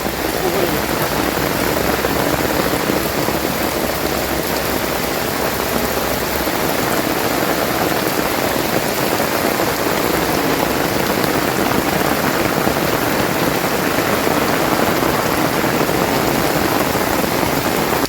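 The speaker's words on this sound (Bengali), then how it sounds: "বৃষ্টি আসছে" Heavy rain pours down outdoors in a loud, unbroken hiss that stays steady throughout, with a voice faintly present beneath it.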